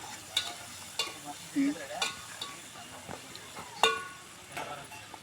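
Onions and green chillies fry in oil for fish curry. A low sizzle runs under scattered sharp clinks and scrapes of a spoon stirring in the pan, and faint speech sounds appear briefly.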